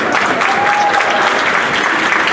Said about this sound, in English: There's the biggest applause.